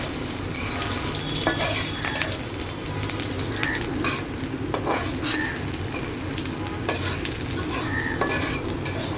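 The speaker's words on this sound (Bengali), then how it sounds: "এবার তেলে দিয়ে দেওয়া হলো পেঁয়াজ কুচি, দিয়ে এটাকে ভালো মতো একটু নেড়ে চেড়ে নিতে হবে" Chopped onion frying in oil with ginger and salt is stirred for pilaf. Sharp spatula scrapes repeat irregularly over a loud, continuous sizzle, close up and with no talking.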